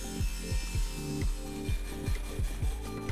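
Rhythmic back-and-forth sawing through wood panels, steady strokes about every quarter second, close and moderately loud with no talking.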